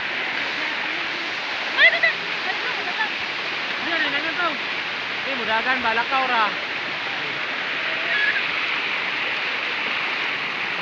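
Canumantad Falls in Candijay, Bohol, pours in a constant, loud rush of falling water, with people talking and children's voices heard over the roar.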